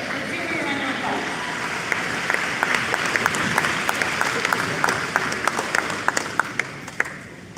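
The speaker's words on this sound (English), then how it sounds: "Let's give her a round of applause." An indigenous awards audience breaks into sustained applause, dense clapping that swells and holds for several seconds while a voice speaks over it.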